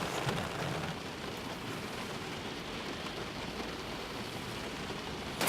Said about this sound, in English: We're hoping that the rain's going to stop here.